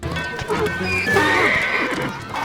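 A horse from the animated series Spirit Riding Free whinnies in a long, wavering neigh over a few seconds of clip-clopping hooves and busy background sound.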